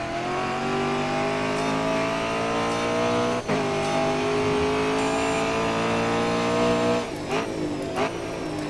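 Heavy touring race car in Grid Autosport, a high-horsepower, high-grip machine, its engine droning loudly and steadily with rising revs, a sharp gear-change dip near the middle and a brief bump with tire scrub toward the end.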